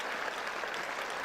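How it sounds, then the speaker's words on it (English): Steady, dense applause from a large tennis crowd around centre court at a WTA 250 grass event in Nottingham, sustained and fairly loud throughout with no talk. "And listen to the crowd. They are playing their part."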